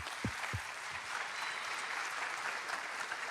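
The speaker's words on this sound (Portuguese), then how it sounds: "um salve de palmas por isso" A church congregation applauds, a broad wash of many hands clapping steadily at a fairly distant, soft level, with a couple of low thumps near the start.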